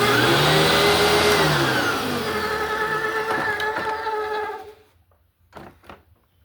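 An old vacuum cleaner runs loud and close with a steady whining motor drone that shifts pitch partway through, then winds down and cuts off, followed by a few faint handling knocks.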